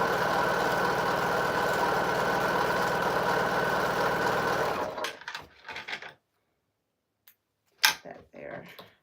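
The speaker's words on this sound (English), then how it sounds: "I'm going to sew 1/4 inch on both sides." A sewing machine stitching quilt fabric runs in a continuous, close whirring stretch for about five seconds, then stops, followed by a few soft handling clicks and a sharp tap.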